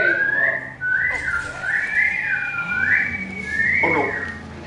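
Person whistling a wavering, rising-and-falling tune in several repeated phrases, close and clear with no talk, during play of the Cars 3 game.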